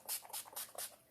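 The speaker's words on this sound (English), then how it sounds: "let's put a little setting spray on it" Four short, quiet bursts of makeup setting spray in quick succession, each a soft airy hiss, close and isolated.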